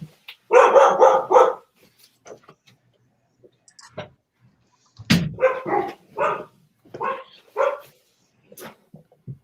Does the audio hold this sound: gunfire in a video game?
no